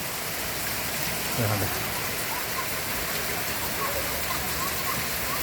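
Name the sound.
heavy rain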